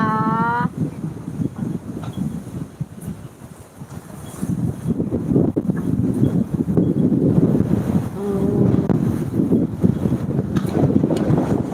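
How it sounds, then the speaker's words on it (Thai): Strong wind before rain buffets the microphone with a continuous rough roar, gusting louder and softer throughout, with faint background noises underneath. "โอ้ยลมแรงมากเลยนะคะ"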